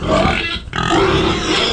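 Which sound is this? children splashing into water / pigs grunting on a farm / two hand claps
pigs grunting on a farm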